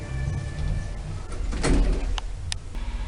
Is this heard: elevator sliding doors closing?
yes